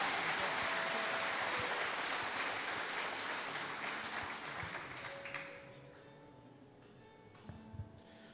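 A church congregation claps loudly together for several seconds, then the applause fades into scattered claps and quiet murmur.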